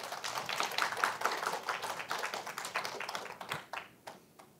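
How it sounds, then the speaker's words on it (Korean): A church congregation claps steadily for a few seconds, the applause thinning and fading out toward the end. "하나님께 영광의 박수 올려드리겠습니다"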